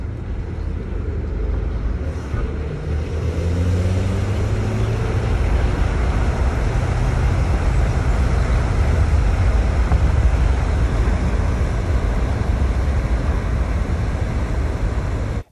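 A 2006 VW Jetta with the 2.0-litre turbo engine, suffering a high-pressure fuel pump fault, drives on a test run, giving a steady low engine drone and road noise from inside the cabin.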